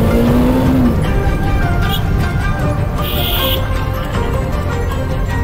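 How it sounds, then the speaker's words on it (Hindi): A motorcycle engine roars close by on a moto-vlog ride in Jhansi, a loud, continuous rev with steady wind rush over it. "चलो भाई एक और रेव"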